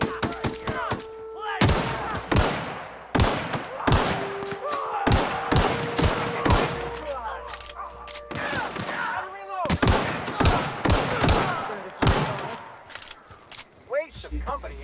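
Repeated gunfire from a firefight in The Outer Worlds, sharp loud shots and bursts arriving in irregular clusters across the whole stretch, mixed with game voices and effects.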